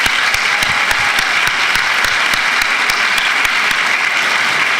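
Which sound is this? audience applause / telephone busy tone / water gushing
audience applause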